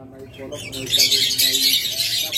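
Caged pet birds such as lovebirds, budgerigars and cockatiels chirp and squawk at close range with bright, busy overlapping calls, while someone talks over them.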